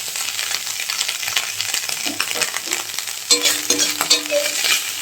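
Dried kachki fish fry in oil in a pan, a continuous close sizzle with scraping stir strokes that grow busier and louder toward the end.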